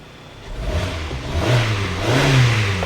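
A Hyundai car engine with its transmission stuck in park revs up twice from a low idle, each rise in pitch climbing and easing back, loud and close, with no talking.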